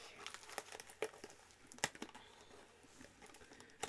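Plastic wrap being peeled off a sealed Pokémon display box gives quiet, irregular crinkling and crackling with scattered sharp snaps, close by and faint.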